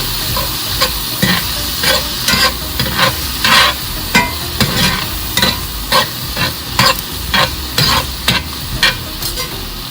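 Beef stroganoff with Dijon mustard being stirred in a hot pan: a close, rhythmic series of spoon scrapes and wet slaps, roughly two per second, over a constant frying sizzle, with no talking.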